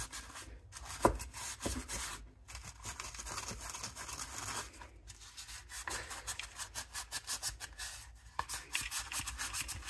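A Scotch-Brite pad scuffs a plastic car headlight lens in rapid back-and-forth strokes, a close, steady, papery rubbing and rasping with brief pauses between bursts.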